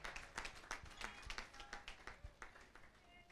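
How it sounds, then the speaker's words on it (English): Scattered audience clapping for a game show contestant at a live gaming event, a thin, uneven patter of individual claps rather than a full ovation, fairly quiet throughout. "a round of applause for Kerry, ladies and gentlemen"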